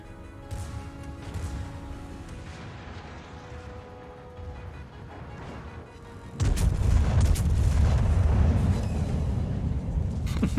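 Large naval guns of HMS Hood fire in a World of Warships battle, a rumbling low roar that surges suddenly louder about two-thirds through and keeps booming and crackling to the end.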